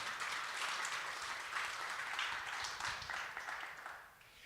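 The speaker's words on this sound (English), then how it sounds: "please give another round of applause to our panelists" Sustained applause from a crowd, steady and fairly loud throughout, tapering slightly at the end.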